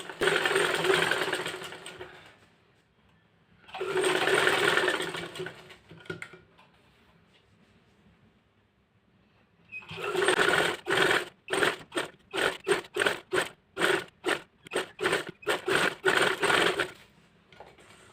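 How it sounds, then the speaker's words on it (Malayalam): A sewing machine stitches around an ironed fabric piece for a frock-style nighty neckline, first in two steady runs, then in quick stuttering bursts after a pause, close up with no talking. "അയൺ ചെയ്ത് വെച്ച പീസ് നമുക്ക് ഒന്ന് അടിച്ചു കൊടുക്കാവേ"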